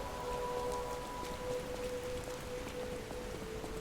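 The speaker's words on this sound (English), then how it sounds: "Can we get out of the rain, please?" Steady rain falls in the Lies of P video game, a constant wash of drops with a faint tonal hum running beneath it throughout, no voices.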